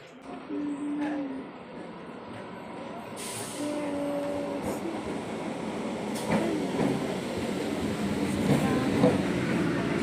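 Inside a moving passenger train bound for Hasnabad, a low rumbling ride with rattling carriage noise and brief squeals or hisses builds steadily louder, while people murmur faintly in the background.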